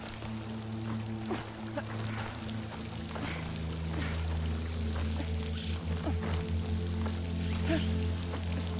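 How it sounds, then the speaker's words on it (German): A waterfall in the video game Horizon Forbidden West, a steady, full rush of falling water pouring continuously, with faint splashy detail on top. "Bei dem Wasserfall."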